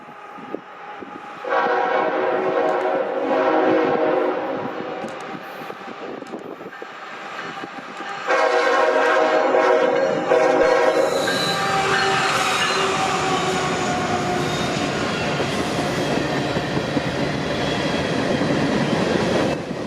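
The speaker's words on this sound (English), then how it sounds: "a super friendly crew was in charge of it today, and they gave us a horn show" A westbound freight manifest train sounds its horn in a show of long, loud chords, two separate blasts with a pause between, then the rumble and clatter of passing cars builds and continues.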